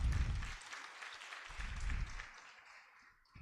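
An audience at a Kenyan National Treasury session applauds, a soft, fairly distant patter of clapping that swells briefly, fades and tails off toward the end.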